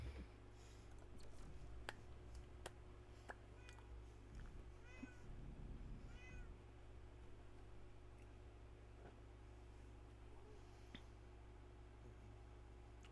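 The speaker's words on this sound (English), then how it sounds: "My cat's as excited as I am." A pet cat meows twice in short, clear calls, close by, over a steady low background hum with no talking.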